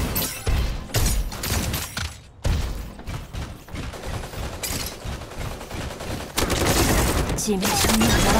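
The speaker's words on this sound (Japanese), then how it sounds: "銃声よ、気を引き締めて。" Dense bursts of rapid gunfire crackle throughout, loud and sustained, with brief pauses and a heavier volley near the end, in the video game Super Mecha Champions.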